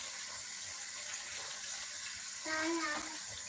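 Fried tinned tomato is poured into a pot of rice for mixed-vegetable jollof rice, a steady wet pouring hiss with a brief louder gush near the end.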